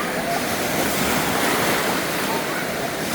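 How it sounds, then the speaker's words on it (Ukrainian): Artificial waves surge through a thermal wave pool at the Zsóry spa complex in Mezőkövesd, Hungary: a steady, loud wash of rushing, churning water that fills the whole stretch without a break, with no clear talk over it. "Щодня, щогодини, 9, 10, 11 вмикається хвиля."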